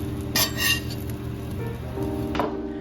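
Potatoes crisping and browning in a frying pan give a steady close sizzle, with a few clinks and scrapes of a utensil against the pan.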